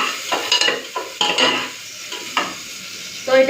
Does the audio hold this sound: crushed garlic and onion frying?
yes